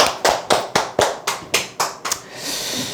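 Eight sharp, evenly spaced hand claps ring out in a steady rhythm, close and fairly loud, then fade into a soft hum of room noise.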